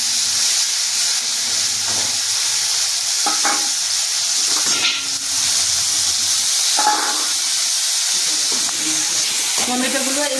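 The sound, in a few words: ginger and tomato frying in a pan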